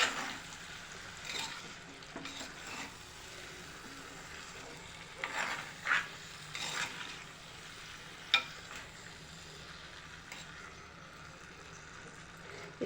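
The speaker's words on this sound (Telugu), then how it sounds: "టమాటా వేసుకొని ఒకసారి ఇలా కలపండి" Tomatoes are stirred into a frying curry in a pan, a soft continuous sizzle broken by intermittent spoon scrapes and a sharp knock.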